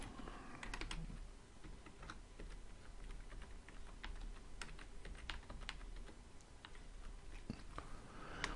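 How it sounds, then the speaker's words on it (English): Someone typing an email address on a computer keyboard in a quiet room, with a close, irregular run of light key clicks and occasional firmer taps, no talking. "And now I'm going to type in my email address."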